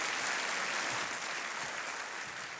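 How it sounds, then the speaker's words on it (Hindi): Studio audience of a Hindi quiz show claps to welcome a woman contestant and her daughter, a fairly faint, even wash of applause that tapers slightly over a couple of seconds. "तालियों के साथ इनका स्वागत"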